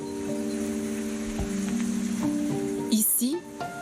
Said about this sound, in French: Ici, l'eau de pluie est récupérée dans de grands barils pour toute la maison.